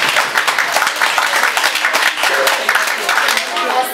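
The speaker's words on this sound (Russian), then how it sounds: "Встречайте аплодисменты." Audience applause at a New Year concert for a school play, a loud, dense and sustained clapping crowd filling the hall, with voices mingling in the background.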